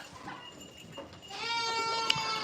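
A purebred Alpine goat bleats once in a barn, a moderately loud, wavering cry that rises out of quiet background noise and holds to the end.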